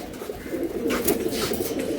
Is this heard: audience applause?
no